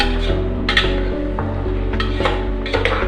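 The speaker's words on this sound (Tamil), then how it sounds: "இந்த ஸ்டேஜில் வேக வச்சிருக்க மட்டனையும் நான் சேர்த்துக்கிறேன். சேர்த்துட்டு எல்லாத்தையும் நல்லா மிக்ஸ் பண்ணுறேன்." A metal spoon stirs cooked mutton into biryani masala in a pot, giving repeated scraping clinks and clatters against the pot in a loose rhythm, close and fairly loud with no talking.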